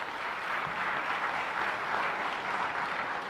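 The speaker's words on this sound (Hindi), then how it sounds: "ज़ोरदार तालियां हो जाए।" An audience at an annual celebration event applauds steadily, a dense wash of clapping that holds an even level throughout with no voices.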